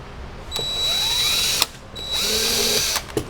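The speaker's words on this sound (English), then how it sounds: "Just got to tap out these 2 holes now." A thread tap is driven into two holes by a power drill, two steady whining runs of about a second each, with a ratcheting pitch change and a short clunk between and after them.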